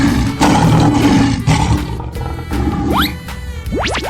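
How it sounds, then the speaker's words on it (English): A lion in a 3D animal video game lets out a loud, close roar that rumbles in pulses, followed by rising whoosh-like game effects at the end. "Lion."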